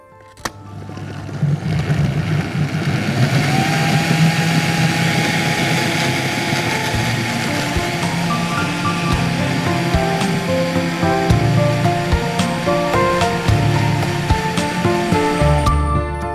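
A kitchen blender whirs continuously, blending lemon, ginger, mint and water into a pink lemonade juice; the steady motor roar holds at a loud, close level for the whole stretch with no talking.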